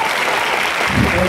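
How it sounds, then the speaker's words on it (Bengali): An audience at a technical school's cultural programme applauds loudly, producing a continuous, dense patter of many hands clapping together that holds steady throughout. "আমাদের ছেলেরা একটা জোরে হাততালি ওদের জন্য"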